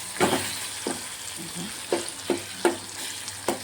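Chopped onion and tomato stir-fried in a pan, a continuous close sizzle broken by several distinct spatula scrapes and taps at irregular intervals, with no talking.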